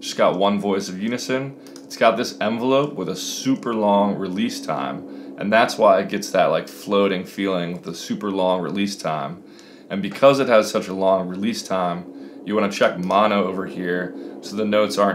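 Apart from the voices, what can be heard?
No everyday noise stands out behind the speech.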